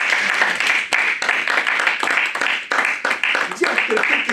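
Sustained applause from a congregation during a French-language church service, dense continuous clapping for several seconds with a few brief dips, loud and filling the room.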